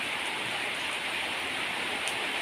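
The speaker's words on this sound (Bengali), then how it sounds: "এই দেখো দেখো কত বৃষ্টি এসেছে" Heavy rain falls steadily and densely, a continuous broadband hiss with no pauses, close and fairly loud.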